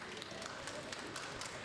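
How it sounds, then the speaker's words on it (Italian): Crowd outside the Maronite cathedral in Nicosia, Cyprus, applauding a papal arrival, a steady, distant wash of clapping heard as a continuous hiss-like texture with faint individual claps. "Sentite ancora gli applausi"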